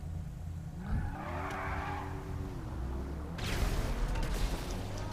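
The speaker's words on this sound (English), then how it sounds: "AI did a bloody burnout." A car does a tyre-squealing burnout in GTA 5, a moderately distant screech with engine hum, rising and bending in pitch over a low rumble, without speech.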